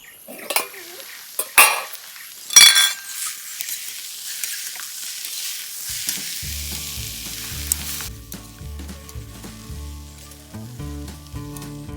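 Jackfruit curry cooks in a pan with a few sharp stirring clatters and a soft sizzle for the first several seconds, then music takes over and the cooking fades beneath it.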